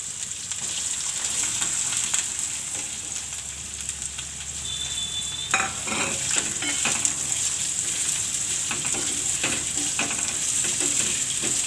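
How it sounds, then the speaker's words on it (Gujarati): Carrots go into a hot ginger tempering for a Gujarati peas and carrot dish, and a loud, steady sizzle follows, with crackling and stirring clatter growing busier after the vegetables land. "તો પહેલાં આપણે ગાજર નાખશું."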